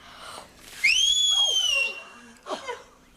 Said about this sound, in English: We were interested in your whistle